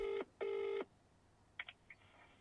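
A telephone call being placed: two long steady tones sound close by, followed by a few short faint electronic beeps as the line connects, with no talk.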